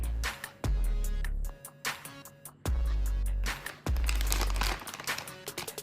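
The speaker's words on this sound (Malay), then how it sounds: "Mula-mula kita keluarkan buka daripada bungkusan plastik" Several bursts of crinkling plastic wrapping on a frozen burger, loud and close, separated by brief pauses, with rapid crackly rustling near the end.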